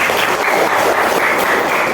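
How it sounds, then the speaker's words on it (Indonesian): Classroom students applauding together, a dense continuous patter of hand claps, loud and close, lasting the whole moment without talk. "Tepuk tangan buat kalian"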